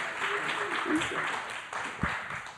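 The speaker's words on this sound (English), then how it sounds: "Give a big round of applause to our super fan." Applause from a live audience at a libertarian podcast event, a steady, dense clapping wash that fills the whole moment at moderate loudness.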